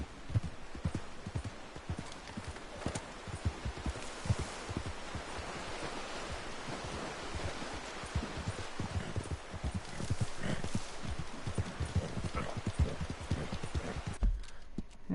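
Horse hooves clip-clop in a steady, continuous rhythm as a rider crosses a narrow pass in the video game Red Dead Redemption 2, the footfalls moderately loud against a faint ambient background.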